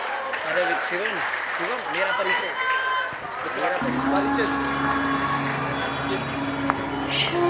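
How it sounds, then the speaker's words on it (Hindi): An audience at a Hindi poetry recital applauds a poet from Kolkata as she is welcomed. A host's voice runs through the first half, then a burst of loud, steady clapping fills the rest. "तो सबसे पहले जो आ रही हैं कलकत्ता की मशहूर कवियत्री श्री मंजुलिका देवी जी का जोरदार ताली के साथ स्वागत करिए।"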